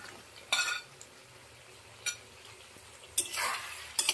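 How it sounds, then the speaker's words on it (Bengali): Fried cauliflower tipped into a pan of potatoes and spices makes a few sharp clanks and scrapes of a spoon on metal, with a brief burst of sizzling, close and clear, and no talking. "এবার ভেজে রাখা ফুলকপিটা এর মধ্যে দিয়ে দিচ্ছি।"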